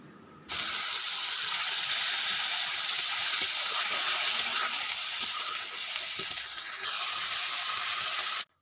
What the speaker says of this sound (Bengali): পরিমাণ মতো হলুদ, দিয়ে নাড়াচাড়া করে কিছুক্ষণ কষিয়ে নিতে হবে।